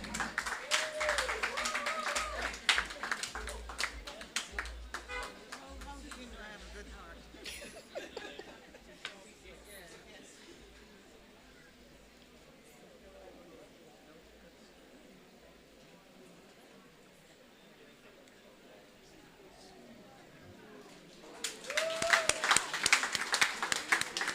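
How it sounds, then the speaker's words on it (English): Scattered clapping and light chuckling from a crowd, swelling at the start and again near the end, with voices murmuring in between. "Give her a round of applause."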